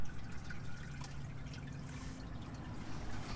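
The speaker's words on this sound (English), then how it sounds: "We're going to keep letting all of this stuff drip because obviously we want all of it to go out." Hot engine oil dripping and trickling from a 987.1 Porsche Cayman into a drain pan during an oil change, a steady close liquid dribble with scattered drips.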